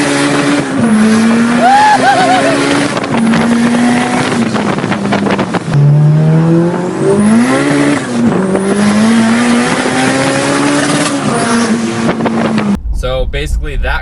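A turbocharged, methanol-injected race car runs hard, its loud engine rising and falling through gear changes with howling revs and tire squeal, ending in an abrupt cut.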